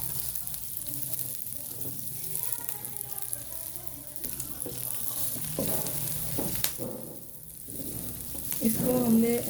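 Chopped onions sautéing in about two tablespoons of ghee for stuffed capsicum with minced meat, a steady close sizzle with occasional stirring scrapes and clinks, with no one talking.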